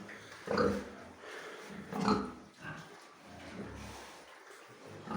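A few low, rough pig grunts, spaced about a second apart, fairly soft and close, with quiet rustling between them.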